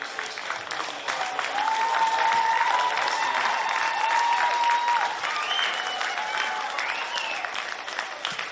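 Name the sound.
applause at women's rugby league cup final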